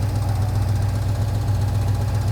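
A Ford FE 352 V8 idles steadily with a strong low hum and a light repetitive tapping noise from the front of the engine, close and continuous with no talking.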